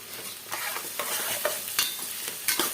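Radish chutney ingredients frying with ginger and tamarind in a pan, a continuous close sizzle with rhythmic stirring scrapes recurring about every half second, no voices.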